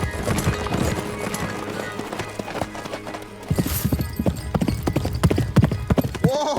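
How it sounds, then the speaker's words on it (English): A horse gallops with fast, rhythmic clip-clop hoofbeats, loud and close, mixed with music and a brief whinny while people react with excited exclamations. "When you see a black man on a horse going that fast, you just gotta let him fly."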